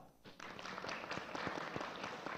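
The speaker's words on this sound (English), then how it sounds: "applause for us" Applause from an audience at a diplomatic forum on ASEAN tourism: a steady wash of many hands clapping that swells in after a quiet start and holds evenly to the end.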